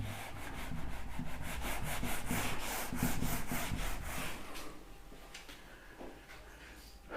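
Rhythmic rubbing of an eraser or duster wiping writing off a classroom board during a trigonometry maths lesson, a steady back-and-forth scrubbing for about four seconds, then quieter, softer strokes trailing off.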